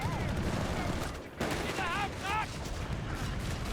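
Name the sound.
light machine gun fire in video game Company of Heroes 3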